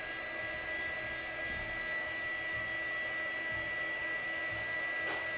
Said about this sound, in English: we're struggling a little bit with the heat gun.